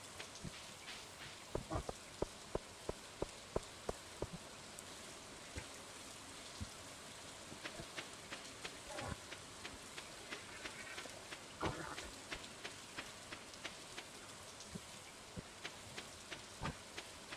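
Light rain patters steadily in the Stardew Valley farming game, a faint continuous hiss with scattered sharp drip-like ticks throughout, heard alone with no talking.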